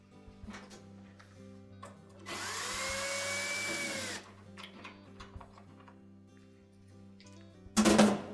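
A power screwdriver backs screws out of plastic spacers on a Whirlpool washer, its motor whining for about two seconds and dropping in pitch as it stops, with small handling clicks before and a sharp clatter near the end.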